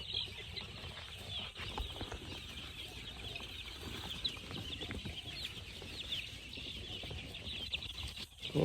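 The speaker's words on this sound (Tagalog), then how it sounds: "So, sobrang ganda sa kasigla ng mga sisiw natin" Baby chicks peep steadily in a lively cluster, with fowl clucking mixed in and a constant high chirping texture throughout, close and fairly loud with no talking.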